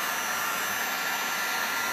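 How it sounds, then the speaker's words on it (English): A heat gun blows hot air steadily to dry a surface, giving a continuous, loud broadband whoosh that holds even throughout with no talk over it. "So with this heat gun, you can kind of like see how it's starting to dry."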